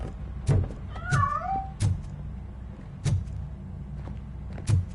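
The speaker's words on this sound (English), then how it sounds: "That cat must be hiding inside." Cat meowing in the RoboCop Rogue City video game, a short rising-and-falling meow mixed in among several sharp knocks and clunks, fairly close and clear with no talking.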